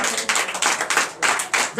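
A church congregation at a Sunday service in Benin claps in loud, uneven bursts of acclamation, with voices mixed in under the clapping.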